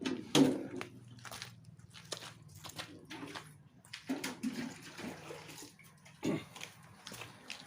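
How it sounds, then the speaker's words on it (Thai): Plain water rinses a motorbike fuel tank after the gravel inside has been emptied out, producing irregular close sloshing and splashing bursts with quiet gaps between them. "แต่ว่าเราจะล้างน้ำเปล่านะครับ ให้มันสะอาดนะครับ"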